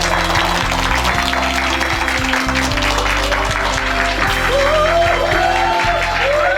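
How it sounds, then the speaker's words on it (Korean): An audience at a live stage performance breaks into loud, sustained applause, dense and continuous throughout, with a steady musical or vocal tone running underneath. "큰 박수 주시기 바랍니다."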